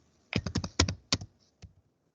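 A burst of quick keystrokes on a computer keyboard, about nine sharp clicks in a brief uneven run, followed by a couple of softer isolated taps, close and clear with no talking.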